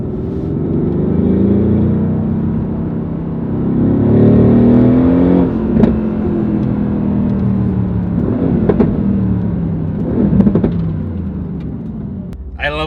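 Mercedes-Benz AMG GT R engine accelerating, a loud close rising engine note that swells, eases and builds again, with a few sharp exhaust pops and shifts near the end.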